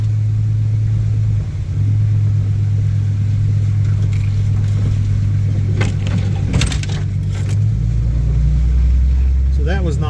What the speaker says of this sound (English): Oh, my truck almost buries up in it.